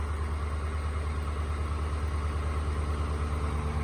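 Cold Chevy Silverado 5.3 V8 idling steadily with a fast, faint ticking pulsing through the low, even rumble, close and continuous with no voices.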